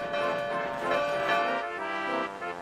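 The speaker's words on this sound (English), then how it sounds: "the bell chimed louder." A bell chiming aboard a little steam engine rattling along a bumpy track, ringing continuously with sustained overlapping tones, fairly loud and unbroken.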